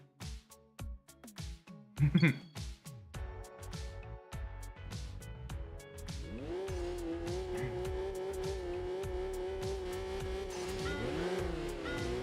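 Race car engines from Enthusia Professional Racing, including a GTR1 Skyline, rev and blip in short bursts before settling into a sustained high drone as the cars pull away, with a tire squeal early on.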